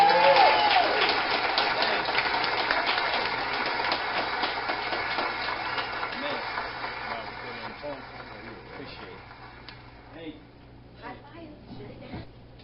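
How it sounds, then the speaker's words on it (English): Audience clapping and cheering at an open mic showcase, loud at first and then thinning out as scattered claps and murmurs fade over several seconds. "Everybody put your hands together, stomp your feet, whatever you gotta do, clap, snap"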